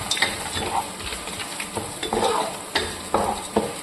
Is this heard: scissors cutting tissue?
no